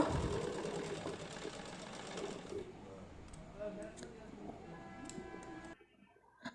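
A sewing machine runs continuously, stitching gathered pleats into cloth for a Jagannath deity garment with a close, steady mechanical whir that cuts off near the end.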